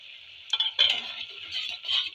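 Boal fish curry is stirred in a pan with a steady scraping hiss and a few soft clinks of the spoon, close and continuous.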